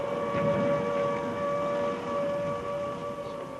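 A wailing air raid siren holds a steady, droning tone throughout, loud and sustained with a slight wavering rise and fall.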